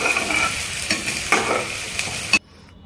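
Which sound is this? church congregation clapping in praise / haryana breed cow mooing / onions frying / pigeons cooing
onions frying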